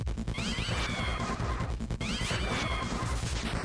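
In the video game Deltarune, cat-like enemies let out two bursts of meowing over loud, busy game music and crashing hit effects.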